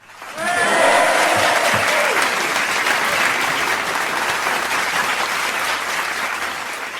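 A folk club audience breaks into loud, resounding applause that swells quickly and holds steady, with a few cheers and voices at the start, dense and close throughout.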